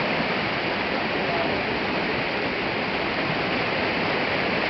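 Steady, loud rushing water from the Meléndez river near an aqueduct intake, a continuous broadband roar with no pauses and no voices.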